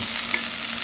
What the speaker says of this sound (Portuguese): Vou dar uma fritadinha aqui. Agora eu vou colocar aqui umas polpetas.